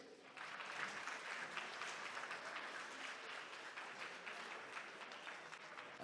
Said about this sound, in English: a huge round of applause to our judges